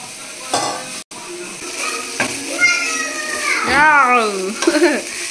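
Rice is stir-fried in a pan, scraping and sizzling in bursts with a sharp clatter near the start, while a voice chatters over it.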